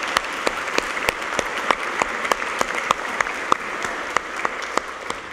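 Church congregation applauding young people during a Sunday service, a steady patter of many hands clapping with sharp individual claps standing out, continuous and moderately loud.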